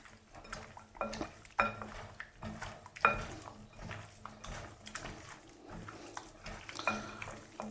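Metal utensils clink and scrape against a bowl while chicken is mixed with lemon and salt for a biryani marinade, with irregular knocks and stirring sounds at close range and no talking.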